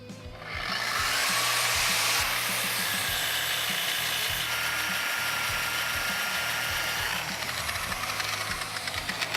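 A tire tread is scuffed to strip off its plastic coating, producing a loud, continuous grinding rasp. The abrasive hiss holds steady for several seconds, with faint low rhythmic thumps underneath.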